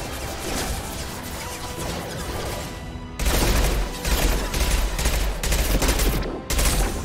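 Mass Effect combat gunfire crackles throughout, with a long burst of rapid shots followed by heavier, louder volleys carrying deep impacts, close and continuous.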